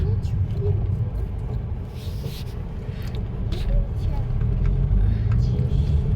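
Tourist cars pass near Hamusar village, a continuous loud road rumble that swells and eases as the four-wheelers go by close at hand, with a voice talking over it.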